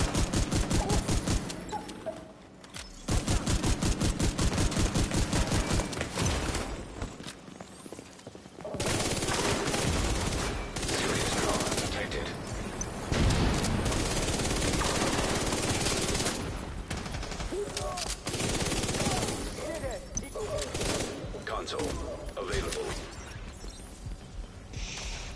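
Sustained bursts of automatic gunfire with rapid, dense volleys of shots in the shooter game The Division 2, broken by brief pauses, loud and close throughout.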